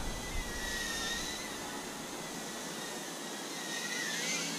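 Boldclash BWHOOP B03 Pro micro drone on 7mm motors flying outdoors in light wind, a continuous high-pitched whine with shifting tonal bands that rise and fall as the throttle changes, moderately close and steady.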